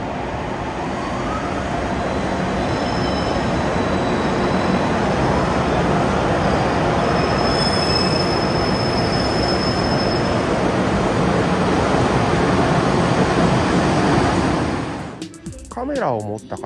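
A heavy EH200 electric freight locomotive hauling tank cars rumbles past up close for a long stretch, with steady roar of wheels on rails and faint high squeals, ending abruptly.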